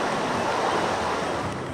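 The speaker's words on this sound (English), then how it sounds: "Look at the tide coming into this tunnel here." Seawater surging through a coastal tunnel on the Irish shore, a steady, loud broadband rush of churning water and surf that holds constant throughout without any voices.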